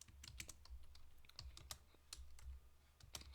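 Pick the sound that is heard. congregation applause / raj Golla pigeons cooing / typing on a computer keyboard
typing on a computer keyboard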